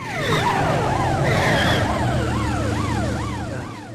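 A wailing police car siren rises and falls in a racing video game, loud and continuous with engine and tire noise beneath it.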